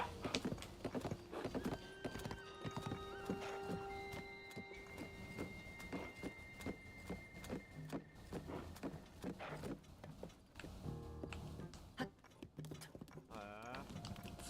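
Horse hooves clip-clopping in a video game, a steady rhythmic stream of hoofbeats with game music tones layered over them, fairly quiet throughout.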